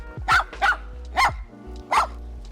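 A dog at an Airbnb in Fampoux, France barks four times at a steady spacing, close and clear, over a quiet background.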